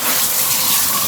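Shower water runs in a continuous loud rush, a steady broadband hiss of spray with no pauses and no talk over it.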